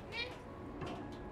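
Cat meows from the game Stray, a couple of short, fairly clear mews over a low, steady background bed, with a person speaking nearby.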